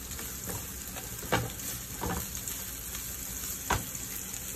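Onion sizzles in a hot pan with a constant bright frying hiss, broken twice by stirring scrapes. The sound is close and moderately loud.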